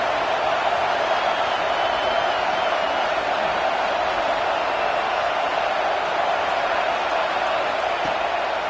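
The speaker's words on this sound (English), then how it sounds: "how nice is it to have the home crowd going absolutely bananas?" Home crowd roaring at a football game, a loud, dense, continuous wash of cheering noise that holds steady throughout with no breaks.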